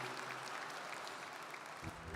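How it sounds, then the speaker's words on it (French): Soft, distant applause from a congress audience at a high-speed rail opening ceremony following a presentation, an even wash of clapping, with a voice starting just before the end. "Mesdames, Messieurs, je vous prie d'applaudir Marc Guigon pour cette présentation."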